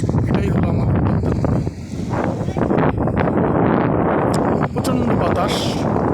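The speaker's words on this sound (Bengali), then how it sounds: "প্রচণ্ড বাতাস," Strong gusts roar across a wide, swollen Padma river, a heavy blustery rush buffeting close to the microphone, with a brief lull partway through before it surges back loud.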